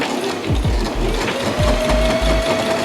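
A sewing machine stitches along the thick outline of a handmade espadrille, a close, loud rhythmic chatter of repeated needle strokes running continuously.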